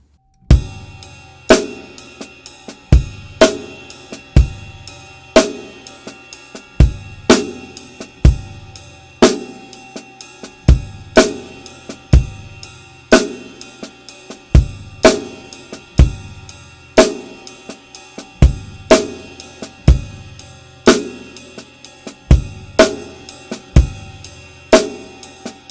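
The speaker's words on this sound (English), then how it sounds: "So now we have ghost notes." A drum kit plays a steady groove on cymbal, kick and snare, with loud regular backbeat hits and quieter snare ghost notes between the strokes, repeating evenly throughout without talking.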